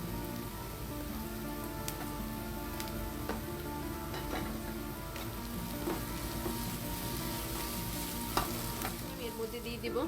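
Sliced green chilies sizzle and crackle in a pan of softening onions, a steady close frying hiss with occasional stirring scrapes and pops.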